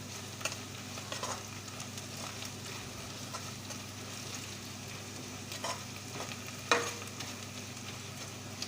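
Ginger, garlic and onion sautéing in a pan for a South Indian mushroom biryani, giving a soft, steady sizzle with occasional light stirring scrapes, fairly quiet and close.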